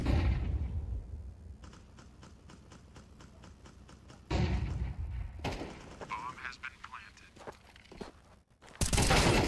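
Gunfire in a competitive tactical shooter esports match, with rapid bursts of shots and sharp cracks amid footsteps, under steady excited commentary.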